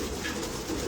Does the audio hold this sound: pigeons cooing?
yes